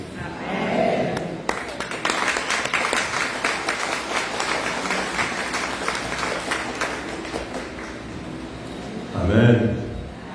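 A church congregation applauds in a sustained round of dense clapping that fills the room, with voices rising and cheering briefly near the end.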